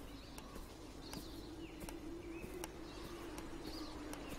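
A bird coos several times in the Beyond Eyes video game, soft repeated calls over a steady low ambient hum and faint chirps.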